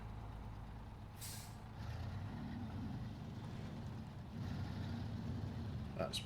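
A truck engine in the SnowRunner video game runs with a steady low diesel drone, opening with a short air-brake hiss, then idling on with a slight rise in level.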